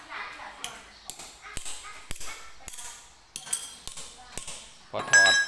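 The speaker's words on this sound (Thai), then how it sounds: "ตอกครับ" Sharp hammer blows strike repeatedly at an irregular pace, each a crisp metallic knock, with a brief clinking ring at the end.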